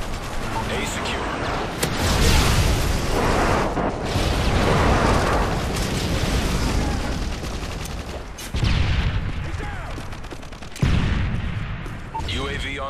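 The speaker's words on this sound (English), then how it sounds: "Enemy airstrike approaching." Enemy airstrike explosions and heavy gunfire in a Modern Warfare 3 Domination match on Outpost 32, dense and loud throughout with repeated booming blasts and rattling fire, announcer callouts heard over the battle.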